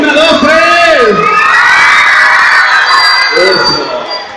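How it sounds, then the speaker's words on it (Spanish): A lively audience at a children's talent show cheers, whoops and shouts loudly, with high excited children's voices standing out in a dense, close crowd roar that fades slightly at the end. "fuerte el aplauso para los gritos"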